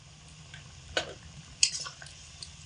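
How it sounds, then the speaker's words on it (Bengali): Chili and potato curry with split green chilies, red chili powder and hot water is stirred in a pan, two quiet scrapes of a spoon against metal over a faint low simmer. "হালকা একটু নাড়াচাড়া করে দেব।"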